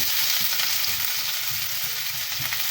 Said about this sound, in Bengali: তেলটা গরম হয়ে গেছে এখন আমি বেশি করে পেঁয়াজ কুচি দিয়ে দিচ্ছি